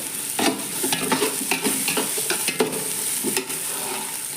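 Onion, ginger and garlic fry in a pan with a bright, steady sizzle, while a utensil stirs them in repeated scraping strokes close by.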